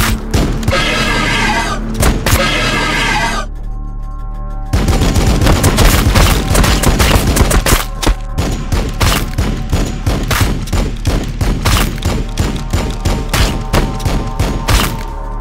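Heavy gunfire in the PC strategy game Warhammer 40,000: Battlesector, loud dense bursts and rapid volleys almost throughout, with a short lull before the firing surges back and keeps rattling to the end.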